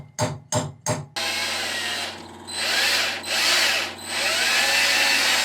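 A drill bores a small screw divot aboard a sailing catamaran under repair, first in three short stop-start bursts, then a long, slow, steady whir that swells and dips in loudness, close by.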